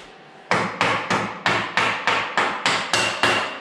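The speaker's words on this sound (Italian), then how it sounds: "Martellare di sinistra è una cosa che mi esce parecchio male" Left-handed hammer blows on KTM 2021 motorcycle parts during disassembly: about ten sharp, ringing metal strikes at a steady, even pace, close and loud, with no talking.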